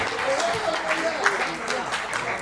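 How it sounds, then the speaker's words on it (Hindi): Audience applause at a Hindi comedy and poetry stage show, steady broadband clapping for the whole short stretch, with a voice faintly audible over it. "तालियां बजाओ यार, ताली बजाओ।"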